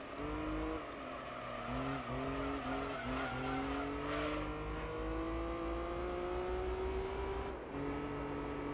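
Race car engine in Gran Turismo 3 revving steadily through gear changes, with tire squeals and skids layered over the continuous engine whine, loud and sustained.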